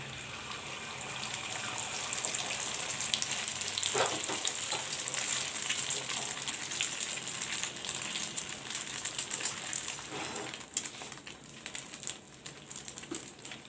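Egg sizzling in hot oil in a pan with a paratha, a steady crackling hiss with occasional sharper pops, close and moderately loud, no talking.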